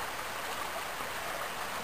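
Steady, even rush of a salmon creek's flowing water, a broad hiss with no breaks and no voices.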